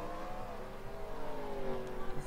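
Race cars of a pro stock series roll into pit road during a round of pit stops, a steady engine drone with rising whine as cars pass nearby, fairly faint under a broadcast.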